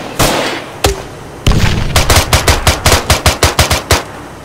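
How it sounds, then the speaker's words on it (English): Gunfire in ArmA 3 combat: a few loud single shots, then a rapid rhythmic string of a dozen close, punchy automatic rounds, heavy and sharp with no talking over them. "Oh shit, we're getting shot."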